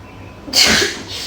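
A single loud, sharp human sneeze bursts in after a short quiet lead-in, close to the listener, then trails off quickly.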